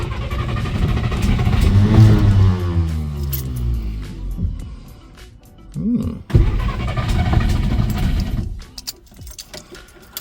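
A 1962 Studebaker Lark cranks over with a rising starter whine, then the engine catches and settles into a steady running rumble that stays loud and close, with a brief sharp clunk partway through.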